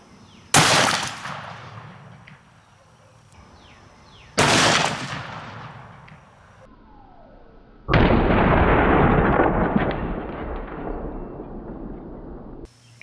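Three loud, close gunshots from a Smith & Wesson 500 Magnum firing 700-grain hard-cast rounds into ballistics gel, each a sharp blast with a long decaying tail, spaced a few seconds apart; the last blast is followed by a sustained rumbling roar.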